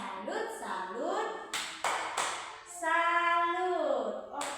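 Children in a Grade 4 primary school class doing a rhythmic 'tepuk salut' clapping chant, sharp group claps cutting through sung chanting voices, loud and close.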